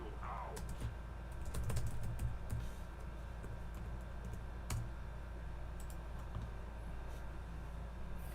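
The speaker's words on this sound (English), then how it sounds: "it's because I'm typing." Someone types on a computer keyboard close by, a steady patter of light key clicks with a few louder taps, over a low background hum.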